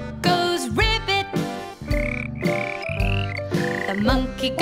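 A frog croaks with a loud, repeated ribbit call over cheerful children's nursery-song music, several croaks spaced through the tune.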